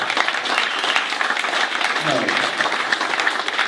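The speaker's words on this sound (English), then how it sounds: "And give it up for Little Mary and all that fun." Audience applause at a comedy club show in Philadelphia, a dense wash of clapping that holds at a steady level for several seconds with a few faint voices mixed in.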